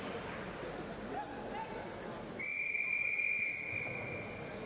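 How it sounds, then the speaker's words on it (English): Starting whistle for a men's 1500 metres heat at an indoor athletics meet: one long, steady shrill blast rising over hall ambience and a commentator's voice. "the whistle goes for heat number 2 of the men's 1500 metres"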